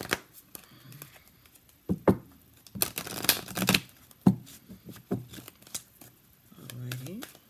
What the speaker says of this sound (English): so that's shuffled